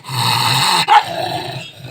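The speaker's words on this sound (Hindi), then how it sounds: "मेरे से ही भौंक रहा है" An Indian desi dog growls and gives a sharp bark close by, with a loud rough snarl leading into a single abrupt outburst, then quieter rumbling.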